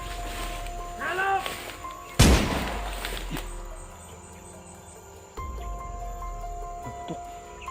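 A single loud, sharp gunshot cracks nearby and echoes away, followed later by a fainter second thump, against a quiet outdoor background with insects and a few voices talking.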